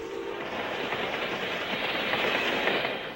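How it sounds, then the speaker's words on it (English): A Canadian National westbound steam freight train pulls out of Toronto, a steady, loud rumble of rolling wagons with faint clickety-clack running throughout and no voices. "Here, a westbound freight leaves Toronto heading for Windsor."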